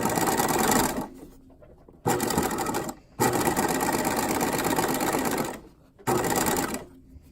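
A sewing machine runs an edge stitch along a patch pocket in bursts of steady rapid whirring, stopping and restarting several times with short pauses between runs.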